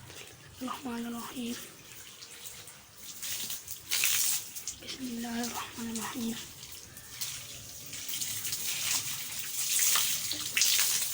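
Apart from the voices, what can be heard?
water from a pipe being run onto a newly built brick wall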